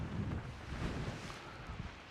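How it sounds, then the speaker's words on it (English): Wind buffeting an outdoor microphone, low rumbling gusts that swell and ease over a couple of seconds, fairly loud with no speech. "I know it's windy"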